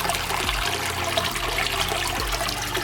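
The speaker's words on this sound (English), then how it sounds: "And now it starts to go right back down. And it starts to fill both of these aquariums." Water pours steadily into two home aquariums in a large fish tank and pond setup, a continuous close rushing and trickling stream with a few low gurgling surges, heard alone.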